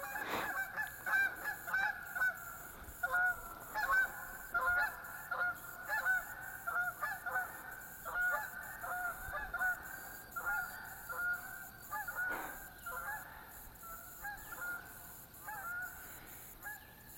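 A flock of geese honks over and over outdoors, the harsh calls overlapping in a steady, irregular stream that stays moderately close and loud with no talk.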